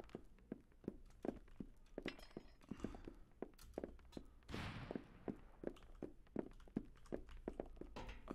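Footsteps tap along at a steady, fairly quick pace in the video game UpGun, with close, distinct thuds and a brief louder burst partway through.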